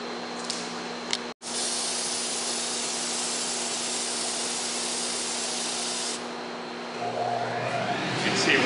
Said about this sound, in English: once I turn the table on, all the spray gets sucked right down in the table